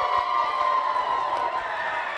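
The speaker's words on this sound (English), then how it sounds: "A big cheer just went up here at the board." A crowd at an election night party for a district attorney race breaks into a sustained cheer, a broad steady roar of many voices and shouts lasting throughout, fairly loud and close.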